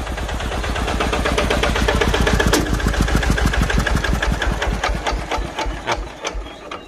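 The Yanmar diesel engine of a tracked crawler truck with a steel track and winch runs close and loud, a rapid steady clatter of firing pulses that slows and fades slightly toward the end.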